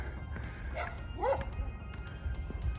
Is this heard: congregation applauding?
no